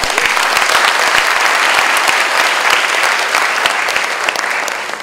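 An audience claps steadily for a graduating class of doctors at an oath-taking ceremony, a dense, sustained round of applause that holds level and tapers slightly at the end.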